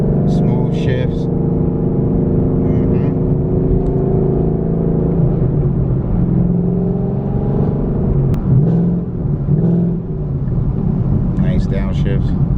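Ford Mustang Boss 302 running E85 with bolt-ons, heard from inside the cabin as the engine pulls hard through several gear shifts, a loud steady rumble rising and dipping between gears, with brief voices near the start and end.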